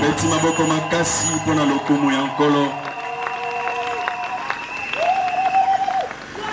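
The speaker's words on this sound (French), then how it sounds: "Acclamons très fort pour la gloire du Seigneur" A large church crowd in Mbandaka claps and cheers loudly, with tonal voices and shouts mixed into the applause and a sustained cheer near the end.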